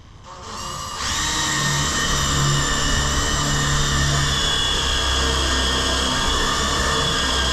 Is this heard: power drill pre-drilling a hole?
yes